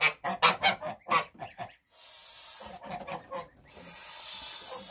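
Newly hatched goslings make a rapid string of loud, close peeping calls, then a short pause, then more calls, with steady background noise filling the gaps.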